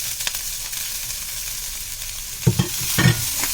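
Onions fry in hot oil with fennel seeds for a Tirunelveli-style suvaroti dish, a steady loud sizzle with a couple of stirring scrapes near the end.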